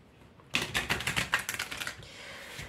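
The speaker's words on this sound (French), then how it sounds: "Je vais tirer les cartes." Tarot cards being drawn and handled, a quick close series of crisp flicking and snapping taps that slows and fades into soft rustling.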